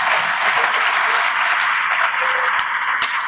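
Audience applause at a university congregation ceremony, dense sustained clapping from a large crowd throughout with no speech.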